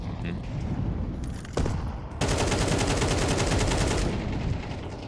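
Rapid gunfire from the Counter-Strike video game on the Overpass map at a pro esports match, a burst of loud automatic shots filling most of the clip after a brief lead-in.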